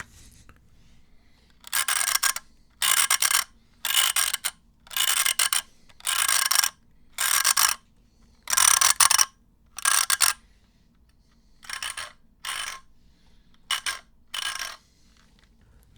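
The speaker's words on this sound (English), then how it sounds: "That's my slicker brush, and I'm just gonna do a little bit of brushing." Slicker brush dragged through fursuit fur in about a dozen distinct raspy strokes, each roughly half a second, bristly and close, spaced evenly and then more loosely with short pauses between.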